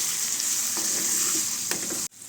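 Spices tempering in hot oil for lemon rice give a steady, close sizzle with light stirring scrapes, then cut off abruptly near the end.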